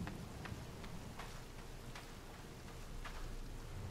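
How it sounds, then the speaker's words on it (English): Heavy rain falls in The Forest survival game, a faint steady hiss with scattered patters of drops, quiet and continuous with no talk. "Rain is getting heavier now."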